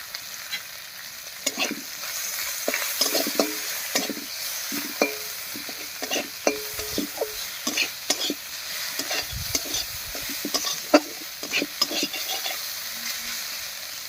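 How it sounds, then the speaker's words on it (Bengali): Onion and dried fish (shutki) fry in a pan with salt and turmeric, a steady close sizzle broken by frequent scraping stir strokes throughout. "এবারে এই অবস্থায় পেঁয়াজ আর শুটকি মাছটাকে একটু ভাজা ভাজা মতো করে নেব"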